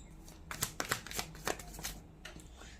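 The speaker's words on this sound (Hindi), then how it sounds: "दो कार्ड्स आगे, एक है 7 ऑफ वॉन्ड्स, दूसरा है टेम्परेंस" Tarot cards being shuffled by hand during a zodiac reading, a quick run of crisp papery riffles and flicks, close and fairly quiet, with no voice over them.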